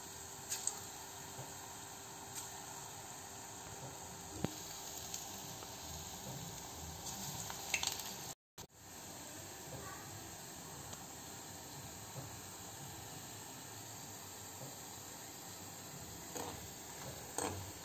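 Urad dal pakoras deep-frying in hot oil, a steady close sizzle and hiss with scattered small pops, continuing throughout with one brief dropout midway.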